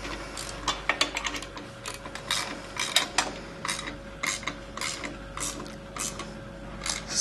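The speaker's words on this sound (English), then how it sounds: "And now we fix the screw in the middle." The middle screw of a WaveInjector workbench is tightened with a ratcheting tool, making repeated close mechanical clicks and creaks in short bursts over a faint steady hum.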